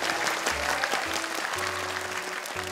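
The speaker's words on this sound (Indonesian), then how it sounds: "Sini tepuk tangan." A group claps together in a steady burst at an Indonesian televised Quran memorization competition, with a low musical hum and tones running beneath the clapping.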